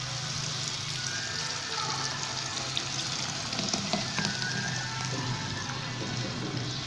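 Strained tomato sauce for pasta fries in a pan with a steady, close sizzle and light crackle, occasional stirring scrapes showing through the hiss.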